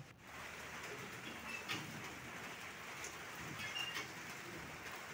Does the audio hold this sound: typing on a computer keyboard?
no